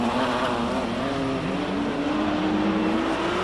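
BMW M3 GTR race car launching off the start line at a hillclimb, a loud continuous engine roar held steady for a few seconds with slowly rising pitch, close by.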